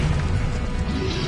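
Explosive Confringo spell fired in Hogwarts Legacy, a dense sustained crashing blast with heavy low rumble filling the moment, loud and continuous without a clear single attack.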